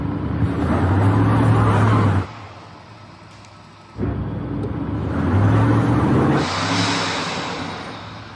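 An Audi Quattro strains in deep snow, engine revving hard in two long bursts as its wheels spin without grip, separated by a brief quieter pause.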